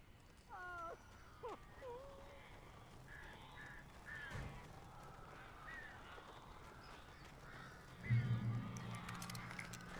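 Crows cawing inside a house in the Alan Wake video game, a few harsh calls and squawks early on, over a low game ambience, with a heavier rumble near the end and voices talking underneath.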